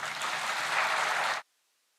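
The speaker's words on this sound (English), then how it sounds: "can I have a big round of applause for all your parents" A student induction audience bursts into loud, dense applause for parents, sustained for over a second before cutting off abruptly into silence.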